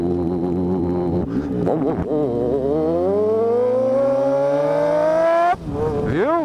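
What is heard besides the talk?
Yamaha XJ6 motorcycle exhaust idling and revving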